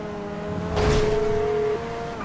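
Car engine sputtering in a video game, a steady tonal engine hum that swells into a louder rough burst midway then drops back, fairly close and alone.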